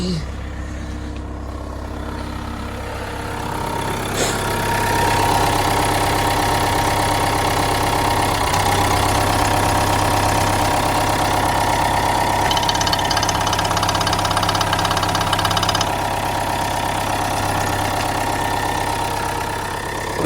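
A 2017 Opel Zafira with a 2.0 diesel engine and automatic gearbox idles with a steady, even rumble that continues throughout.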